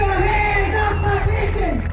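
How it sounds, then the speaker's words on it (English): A crowd of state workers, educators and retirees rallies on the steps of the Kentucky state capitol; voices shout and cheer together in a brief, loud, close burst. "A passionate crowd of state workers, educators, and retirees took to the steps of the state capitol with one message"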